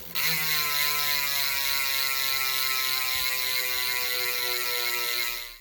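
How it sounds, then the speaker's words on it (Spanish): A 40-tooth ratchet freehub on a BH Evo SL bicycle wheel buzzes loudly and steadily as it freewheels, with a fast, even stream of clicks that runs almost six seconds before cutting off. "cuentan con un nuevo buje con su propio sistema de enganche ratchet de 40 dientes"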